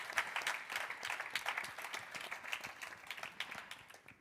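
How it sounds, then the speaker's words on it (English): Applause from an audience at an annual general meeting for Ardian Foundation Day: steady, crisp clapping from many hands, sounding fairly distant and soft, sustained throughout without fading. "I think she already deserves a big round of applause."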